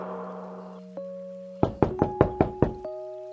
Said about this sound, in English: I suddenly heard a knock on the door